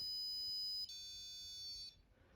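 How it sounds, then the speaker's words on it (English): A steady electronic buzzer tone sounds continuously for about two seconds, shifting pitch slightly midway, then cuts off into quiet background. "So I will press the button to hear the buzzer."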